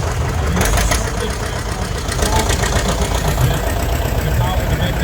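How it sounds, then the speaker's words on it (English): A John Deere 730 diesel tractor engine idles at a tractor show parade, chugging steadily and loudly close by while voices carry over it. "So this John Deere 730 diesel, before they came out with good electric systems and good starters, you had to start this"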